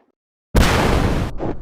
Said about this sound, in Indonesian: Semua terkaget akan suara meriam tersebut